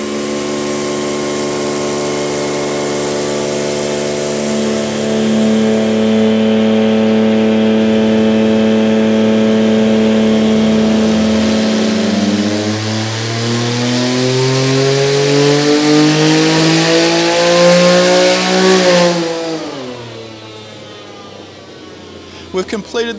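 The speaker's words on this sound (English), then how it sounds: "We've got the car strapped down on our mainline dyno now, so we're going to jump in and get the system up and running." An 800HP hill climb race car for Pikes Peak running on a mainline dyno with a nitrous anti-lag system, its engine revving in long rising sweeps to a high scream before dropping off, loud and close with crackles at the end.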